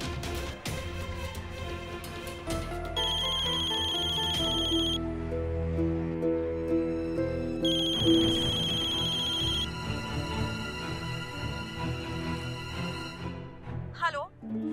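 Telephone ringing for an incoming call, an electronic ringtone in repeated bursts under an ongoing musical background, moderately loud, with people speaking near the end.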